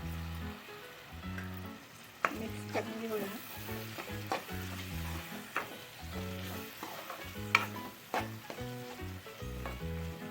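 Chana dal tipped into a hot frying pan of bitter gourd (kantola) bhaji and stirred, giving a steady sizzle with repeated scraping strokes of a spoon against the pan, close and clear, with no talking.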